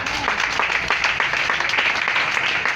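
A church congregation applauds together in steady, dense clapping that fills the room.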